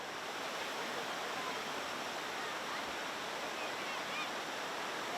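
A river fed by a hot spring in Deli Serdang flows steadily with a dense, even rushing roar, as if near a small waterfall or rapids, and holds constant for several seconds.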